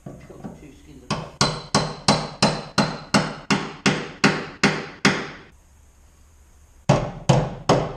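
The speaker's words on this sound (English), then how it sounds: "Then the chisel, and then put the two skins apart." A hammer drives a chisel to split the two welded skins of a Ford Escort RS Turbo rear floor pan: sharp metallic blows land in a quick steady series, pause, then resume with three more close, loud strikes.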